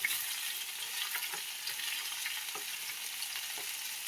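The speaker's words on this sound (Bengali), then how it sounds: "ভালো করে সবজিগুলো আমি ভেজে নেব।" Potato, carrot and split green chili frying in a pan for a spicy rohu fish curry, a steady close sizzle with faint stirring clicks scattered throughout, no voices.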